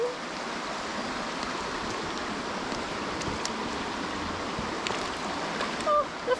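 Someone wades into a river while mudlarking: shallow water rushes and swirls in a steady, close hiss, with a few louder sloshing splashes near the end.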